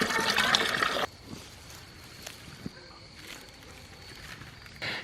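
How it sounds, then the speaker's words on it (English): A garden hose sprays water loudly up close for about a second, then drops to a faint trickle with soft background noise before the gush briefly returns at the end. "Are you playing with the hose?"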